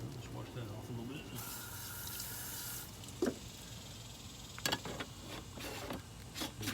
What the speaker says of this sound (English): Let's wash that off a little bit.